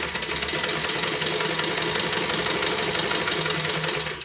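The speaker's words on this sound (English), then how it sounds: "This is just a basting stitch." A sewing machine runs a basting stitch at an eighth-inch seam on a multi-compartment tote bag, a continuous fast rattling hum held steady for several seconds, close and loud with no talking.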